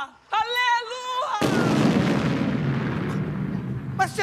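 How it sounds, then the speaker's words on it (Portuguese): A building elevator crashing down its shaft, a loud sudden roaring crash that rumbles on and slowly fades, following a person's sung or held voice just before, with another voice starting at the end. "o elevador do prédio despencou de vez dentro do poço"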